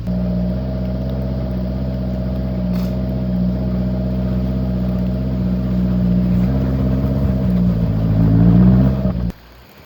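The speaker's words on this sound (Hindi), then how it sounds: "मैं ज़्यादा एक्सीलेटर नहीं दूंगा क्योंकि चेन निकलने के चांसेस होते हैं।" A car fitted with snow chains creeps slowly along a snowy mountain road, its engine humming steadily at low revs with a slight rise near the end before cutting off.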